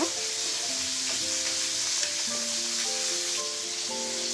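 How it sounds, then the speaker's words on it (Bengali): Ginger garlic paste fries in a pan for a hilsa fish curry, making a steady, close sizzle that carries on for several seconds over soft, sustained musical tones. "এই আদা রসুনের পেস্টটাকেও আমি কয়েক সেকেন্ড ভেজে নেব"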